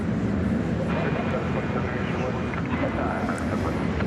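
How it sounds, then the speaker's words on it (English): A Boeing Dreamliner airliner roars at an airport, a broad steady jet rumble at middle distance while someone talks over it throughout. "That is a Boeing Dreamliner."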